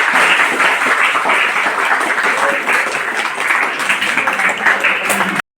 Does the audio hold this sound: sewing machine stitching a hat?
no